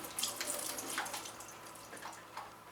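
Water trickles and splashes softly from a tap into the funnel of a flexible silicone ice ball tray, a faint continuous pour with slight gurgles, no voices.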